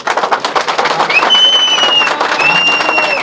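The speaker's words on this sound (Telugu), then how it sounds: "వంగవీటి రాధా గారికి మీరందరూ గట్టిగా చప్పట్లు కొట్టాలి" An audience at a political gathering applauds chief guest Vangaveeti Radha, with dense, loud clapping from a crowd that builds quickly, and a few shrill whistles rising over it.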